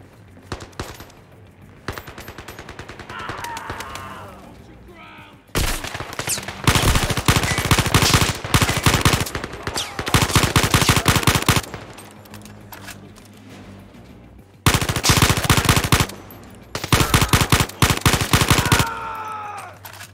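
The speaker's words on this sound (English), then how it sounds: "Watch out for enemy fire." Enemy gunfire in the VR shooter Zero Caliber VR: loud bursts of rapid automatic fire come in several intermittent volleys, each a few seconds long, with quieter pauses between them.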